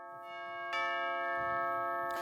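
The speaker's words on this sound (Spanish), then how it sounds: "un timbre como Dios manda para recibir a un caballero, el señor Oscar Martí" A doorbell chimes in a studio setting, a sustained bell-like tone rising in strength after a soft start, ringing steadily with no talk over it.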